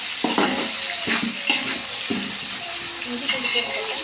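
Onions fry in a pan for curry gravy, a close sizzle broken by repeated scraping and clattering stirs, with a voice heard faintly at times.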